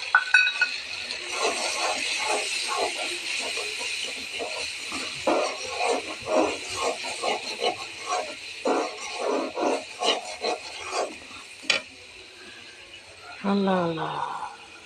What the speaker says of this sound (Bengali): এখন বন্ধুরা ভালো করে কষিয়ে নেব।